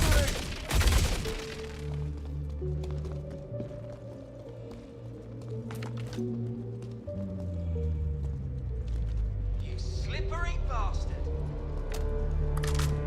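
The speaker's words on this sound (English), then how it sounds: "Suppressing fire!" Gunfire crackles in Star Citizen during a firefight, with a burst of loud sharp shots at the start followed by scattered cracks over a droning background hum and a person speaking.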